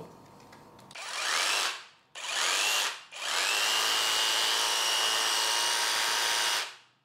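A cordless brushless jigsaw whirs up loudly in two short bursts, then runs continuously at high speed for several seconds before cutting off.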